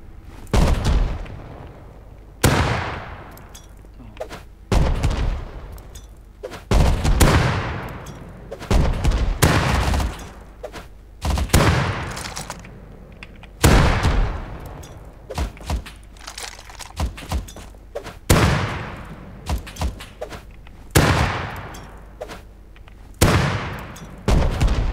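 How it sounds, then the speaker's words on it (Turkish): Gunfire and rockets in a video game tank battle land as a run of loud, heavy booms and thuds every couple of seconds, each with a short rumbling tail, and no voices over them. "Ya mermi sıkıyor, roket atıyor."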